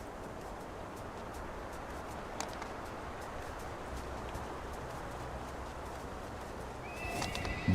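A horse mount gallops in the online game DDO with quick rhythmic hoofbeats over a steady ambient bed, and a neigh or whinny breaks in near the end, with no speech.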